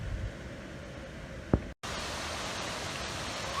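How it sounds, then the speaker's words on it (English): A steady, even rush of falling water at the Glen Aulin waterfall in Yosemite's High Sierra, heard as continuous broadband noise with one brief sharp knock and a momentary dropout. "I'm about to go swim to the waterfall."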